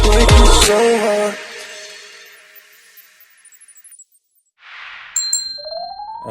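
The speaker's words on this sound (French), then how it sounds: "il y a des moments où la cloche sonne" A bell rings with one loud struck ding that rings out and slowly fades, followed after a quiet gap by a soft whoosh and a few bright, brief chime tones.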